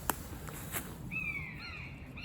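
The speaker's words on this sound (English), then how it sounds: "it's very quiet apart from these birds you can hear" A bird calls at sunrise in quiet, misty woodland, giving a couple of thin, drawn-out whistled notes over faint background hush, with a soft footstep-like knock near the start.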